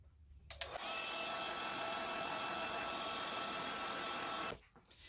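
A handheld dryer blows steadily on wet cottage color paint brushed onto raw wood, a close, loud whooshing roar that starts abruptly, holds level for about four seconds, then cuts off.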